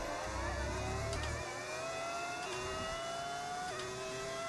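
A Formula One race car engine in the F1 25 racing game screams at high revs throughout, with the pitch climbing repeatedly and dropping briefly at each gear change.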